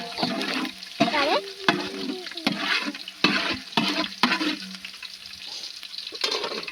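Chillies sauté in hot oil in a pan with a close crackling sizzle and repeated scraping strokes of a spatula, while voices talk intermittently over the cooking.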